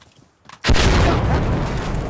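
A frag grenade goes off in the video game Insurgency Sandstorm after a short quiet moment. A single loud, sudden boom gives way to a heavy, rumbling roar that carries on to the end.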